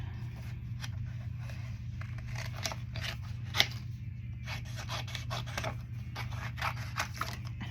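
Scissors fussy-cut paper for a handmade Easter card, a run of quiet, crisp snips and rasping slides repeating irregularly at close range over a low steady hum.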